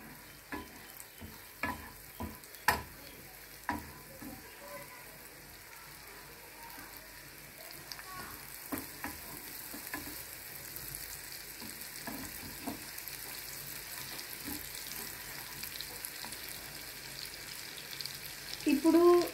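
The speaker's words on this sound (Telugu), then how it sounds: "గార్లిక్స్ కొంచెం ఫ్రై అయ్యే వరకు ఉంచుతాం." Garlic frying in oil for honey chilli chicken, a steady soft sizzle with scattered clinks and stirring scrapes, fairly quiet and close, growing a little louder at the end.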